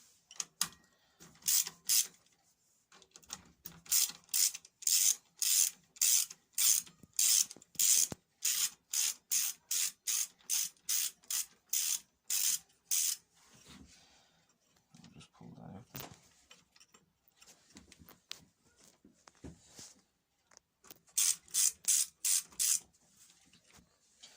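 An 8mm socket on a ratchet backs out the carburetor bolts on a 6.75 Briggs and Stratton engine, with long runs of quick, even, close clicking broken by a quieter stretch where someone briefly talks.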